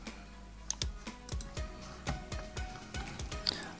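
Fingers type C++ code into the Dev C++ editor on a computer keyboard, a close, brisk run of uneven key clicks and thumps that never stops, with no talking.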